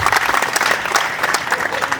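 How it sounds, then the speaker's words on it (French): Guests at a golden wedding anniversary celebration applaud the couple, a dense, lively burst of clapping filling the whole short moment. "Je vous invite, mesdames et messieurs, à applaudir pour ce couple extraordinaire"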